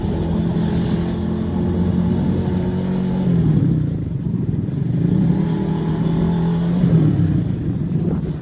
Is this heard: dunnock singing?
no